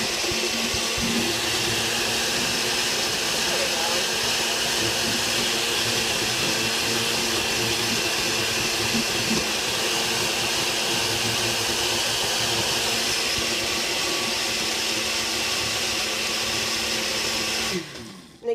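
A blender running on high whirs continuously while blending chickpea hummus, a loud steady motor roar with churning texture that holds for most of the stretch before cutting off at the end.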